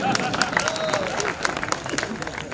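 Audience applause at a Hindi public talk, a steady wash of many hands clapping with crowd babble mixed in, fairly loud and continuous throughout.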